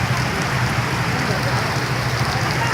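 Steady, dense rain pours down during a traffic jam, a constant close hiss of drops on surfaces with no letup.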